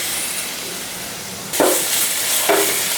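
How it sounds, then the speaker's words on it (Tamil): Tomatoes with salt frying in a pan for a simple home lunch, a steady close hiss and sizzle that swells louder partway through, with brief stirring scrapes and no talk. "தக்காளி வதங்க உப்பு போட்டுக்கலாங்க."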